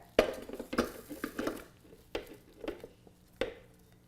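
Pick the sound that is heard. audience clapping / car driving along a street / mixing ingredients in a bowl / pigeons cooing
mixing ingredients in a bowl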